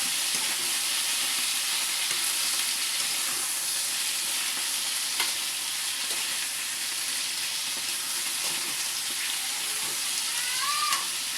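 Shrimp frying in a pan for breakfast, a steady bright sizzle crackling evenly throughout with faint clinks and stirring noises, close and continuous with no talking.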